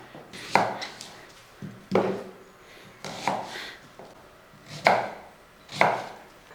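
An onion being chopped with a knife on a cutting board, about six distinct, evenly spaced thuds, each with a short scrape, close and fairly loud with no talk.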